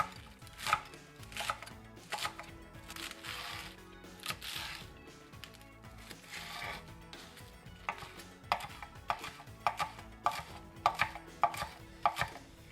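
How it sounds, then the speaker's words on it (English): A knife slicing lettuce thinly on a cutting board for a spring roll salad, giving a series of close, crisp chops in uneven bursts, quickening toward the end. "So I gave that a few cuts vertically, and then I'm going to give that a fairly thin slice across."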